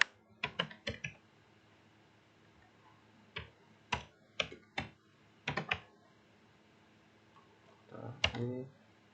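Computer keyboard typing in short bursts of clicks and a final Enter-like press, with a few separated clusters of keystrokes over a quiet room hum.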